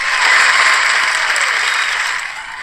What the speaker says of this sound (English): A little applause for Ted